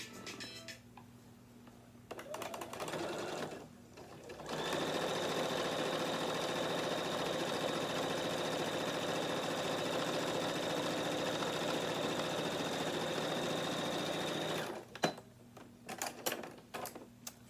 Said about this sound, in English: So let's go ahead and sew that all the way across